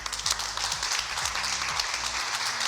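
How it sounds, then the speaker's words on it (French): Studio audience at a French evening show greets a host with applause, a dense wash of clapping at moderate volume with low music thumping beneath it throughout. "À ma droite, toujours fidèle au poste, un tonnerre d'applaudissements pour Loïc."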